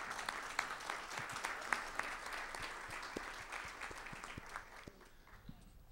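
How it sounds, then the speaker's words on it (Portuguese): An audience at a Brazilian lecture series applauds academician Zuenir Ventura, with steady, moderately loud clapping from a room full of people that thins and fades toward the end. "para quem eu peço uma salva de palmas"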